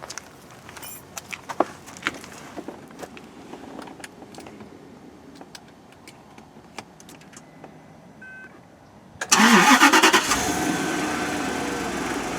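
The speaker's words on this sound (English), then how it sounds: "So the fuel pump's permanently on and that will let us start the car and get it running." A 2003 Bentley Arnage T with its fuel pump jumped to run constantly cranks after a stretch of faint clicks and rattles, then catches and settles into a loud, steady idle that keeps going.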